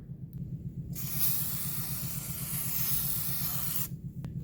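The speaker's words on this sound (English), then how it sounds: "We're going to apply the white grease because we're running low on the anti-seize." White grease sprays from an aerosol can onto the hub of a brake rotor on a 2007 GMC Savana 2500, a single close hiss lasting about three seconds.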